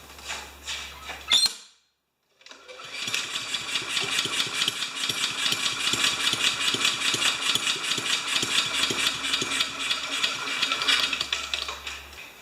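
A Honda lawn mower engine runs at an uneven, choking idle with a rapid sputtering chug that carries on steadily after a brief silence, close and fairly loud.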